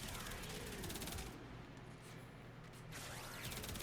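Prisma Grakata firing in Warframe, a fast, continuous stream of rapid gunfire that stays dense and steady from start to end, with no pauses or talking.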